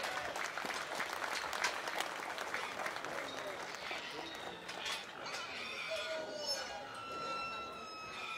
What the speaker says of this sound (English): let's give those donators a nice round of applause